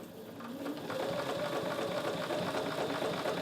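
A sewing machine fitted with a walking foot runs steadily while sewing quilt binding, its close, even mechanical hum and rapid needle chatter continuing throughout without pause.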